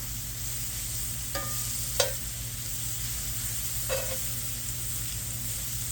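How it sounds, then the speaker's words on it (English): Mushrooms fry in brown butter in a pan with a steady, close sizzle. A few sharp clinks of a utensil stand out over it, and no one talks. "And we're basically gonna do like a brown butter. So right now we're gonna throw our mushrooms in."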